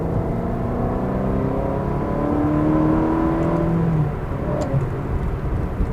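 A Ferrari 360 Modena F1 accelerates on the road with a smooth, rising engine whir that holds steady and moderately loud from inside the car for several seconds, with no voices.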